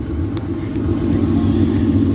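A V6 car engine with Roush long-tube headers and catback exhaust at a car show rumbles steadily and loudly at close range, a deep continuous low-end drone without obvious revving.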